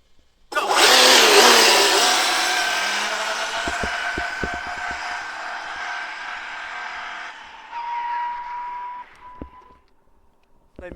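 A brushless Losi 5T RC car launches at full throttle with a sudden loud electric whine that peaks immediately, then fades and shifts in pitch as it speeds away, followed by a few faint clicks and a brief tonal whir.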